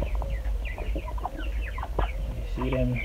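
Chickens raised alongside two growing turkeys on a livestock farm give frequent short clucks and chirps, near and fairly loud, over a low rumbling background.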